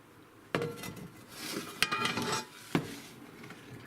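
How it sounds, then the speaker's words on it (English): A cast iron pan is brought over and set about, giving three sharp, heavy metallic clunks spaced apart with light rattling and handling noise between them over a quiet room background. "now we're going to sit there and bring over my cast iron pan"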